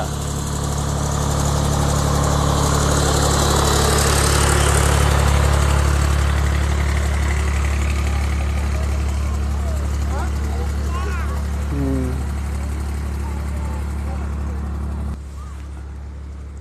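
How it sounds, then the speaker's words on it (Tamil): A tractor engine idles close by in an apple orchard, low and continuous, with birds chirping in the background; the engine cuts off near the end. "இந்த டிராக்டர் தான் உள்ளே கூட்டு வருவாங்க."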